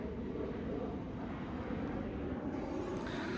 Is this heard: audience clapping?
no